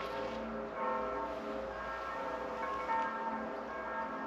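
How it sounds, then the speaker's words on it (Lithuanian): Church bells ring from a nearby church in Lithuania, a steady sustained peal with layered ringing tones heard outdoors at moderate distance, no talking over it. "O, čia iš tos bažnyčios skambo varpai."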